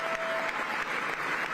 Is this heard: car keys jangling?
no